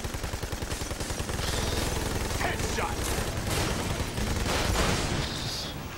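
Sustained gunfire fills a firefight in the co-op shooter Army of Two: The Devil's Cartel, rapid automatic bursts chattering close and loud throughout, with voices talking briefly over the shooting.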